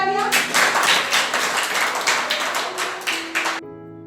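Brisk clapping from a group of students cheering the joint winners of a classroom team game, a dense burst lasting a few seconds that cuts off abruptly, leaving a faint steady hum.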